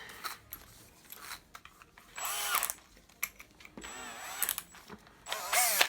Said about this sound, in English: we're just gonna slide this drill bit in